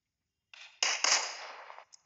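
Gunfire in the PUBG Mobile shooter game on Android: a faint pop followed by a loud sharp burst of gunshots, ringing out and trailing off over about a second, with no talk.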